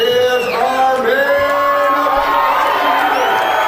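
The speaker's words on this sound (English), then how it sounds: "The crowd is eagerly awaiting this event." Loud crowd at a WEC 5 Halloween Havoc 2002 event cheering, whooping and shouting continuously just before the main event, a dense, steady roar with rising individual yells throughout.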